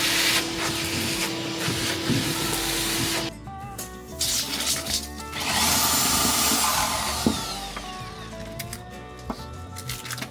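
Power drill boring a 2.5-inch hole through a wooden floor joist for vent pipe, heard up close as a steady motor whine broken by pauses, then a rougher grinding stretch as the bit cuts through the wood.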